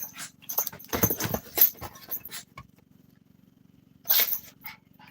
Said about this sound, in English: sorry, my dog is distracting me